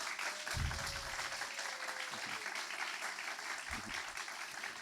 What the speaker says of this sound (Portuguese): Uma salva de palmas para o professor Geide